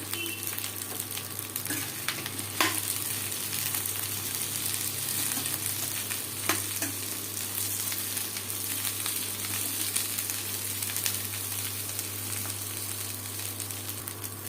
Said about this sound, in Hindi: तेल गरम हो गया है और अब हम भिंडी को फ्राई कर ले रहे हैं।